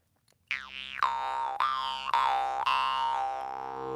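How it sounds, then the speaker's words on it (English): A mid-range jaw harp with a draw start plays close and clear, giving five twangy plucked strikes with sliding, eerie overtones that ring out between notes, with no voices. "Jaw harps in the mid-range that have draw starts, I've always thought of them, they have like this creepy, ethereal sound to them"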